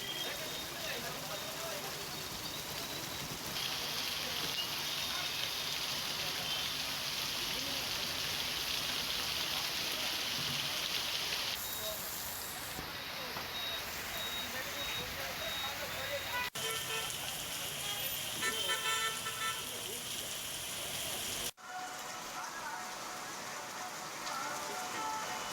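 Heavy rain pours down on Kalavad town during a storm with strong wind and lightning, a loud, continuous roar of drops on surfaces across several cuts, with a voice talking over it.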